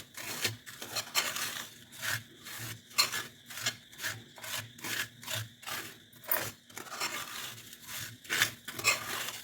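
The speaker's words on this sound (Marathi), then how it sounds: "आपण कंटिन्यू साखर हलवत राहायचं" Sugar stirred in a kadhai just taken off the gas while making Mathura peda: rhythmic, gritty scraping strokes, about two per second, close and moderately quiet, with no talking.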